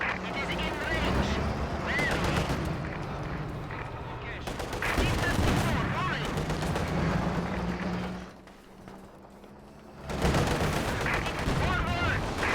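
Video game gunfire: heavy rapid bursts and booming shots in dense waves, with a quieter lull before firing resumes, while a player talks over parts of it.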